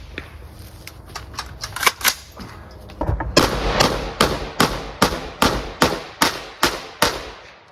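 Gilboa Snake double-barrel rifle firing at a torso target outdoors, a sharp string of cracks: a few scattered shots, then about a dozen evenly spaced loud reports in a steady rhythm, close to the microphone.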